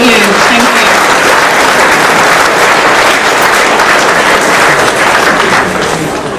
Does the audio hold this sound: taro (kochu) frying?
no